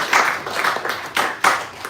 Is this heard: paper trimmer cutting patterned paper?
no